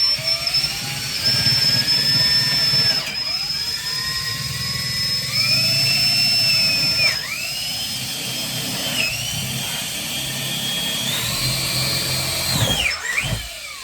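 A power drill bores a hole through the end of a boat's tiller extension, its whine rising and dipping in several bursts as it bites through the wood, close and loud.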